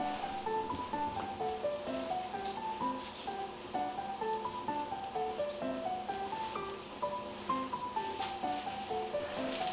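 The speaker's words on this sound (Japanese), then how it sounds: "豆腐を片栗粉にまぶして気をつけながらフライパンに入れてってください。" Starch-coated tofu frying over low heat in about two tablespoons of oil in a frying pan: a steady, close crackling sizzle with fine popping throughout, under a continuous musical tone in the background.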